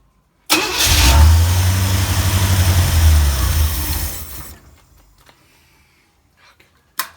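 A 1984 Corvette C4 engine, fitted with a new starter and distributor and having its fuel system troubleshot, cranks and catches abruptly, then runs loudly and steadily for a few seconds before shutting down. A brief knock follows near the end.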